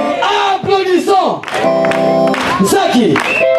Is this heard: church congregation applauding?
yes